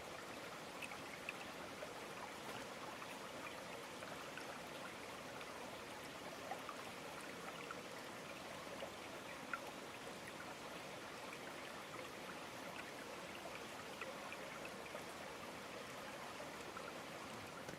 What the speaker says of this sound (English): Here's the other stream that goes by the other side of the house.